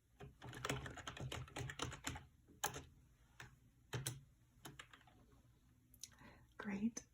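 Close, soft typing on a computer keyboard in a quiet room, bursts of quick key clicks with brief pauses, a gentle whispered voice at the end.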